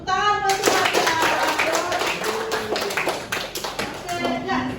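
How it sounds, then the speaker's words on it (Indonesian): A classroom of children applauds with a dense, steady patter of hand clapping that lasts throughout, while voices speak over it. "Oke, tepuk tangan buat semuanya."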